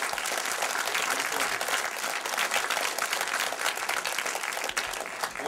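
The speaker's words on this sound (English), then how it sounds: "Once again, a thunderous applause for Carl Zittrer, John Saxon" A crowded audience at a midnight film screening and Q&A breaks into loud, continuous applause, a dense wash of clapping that holds steady for several seconds.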